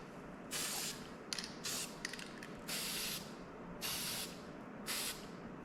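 Aerosol spray paint applied in a light coat to an RC car body, about six short hissing bursts in a steady rhythm with brief clicks between, close and alone.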